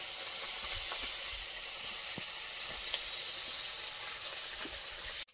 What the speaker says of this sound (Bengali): তুলে নিয়ে এবার চুনো মাছ ভাজবো